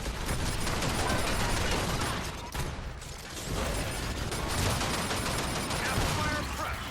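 Rapid gunfire from a video game keeps up nearly without a break, dense and loud, with a short lull near the middle before the shooting resumes.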